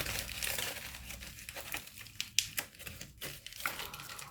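Crinkly plastic packaging from a fluorescent novelty item being worked at by hand, a steady close crinkling and rustling with sharper snaps and tearing-like bursts scattered through, no talking.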